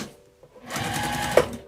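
A sewing machine top-stitches vinyl on a wristlet at a 4.5 stitch length, starting after a brief pause with one steady, close whirring run of rapid stitching that lasts about a second.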